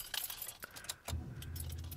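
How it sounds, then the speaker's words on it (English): Car keys for a Ford Orion Equipe jangle sharply in a couple of quick rattles, then the ignition catches and a steady low engine-side hum takes over, close and fairly loud. "Now, I'll grab the keys and pop them in."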